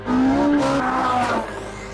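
A mid-engined Ferrari 458 Spider convertible with a folding hardtop drives past loudly, its exhaust giving a sharp rising, rasping engine note that holds briefly and then eases off, with no voices.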